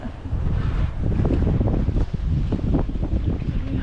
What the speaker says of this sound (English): there's still wind, but the waves are also still here, so there's that.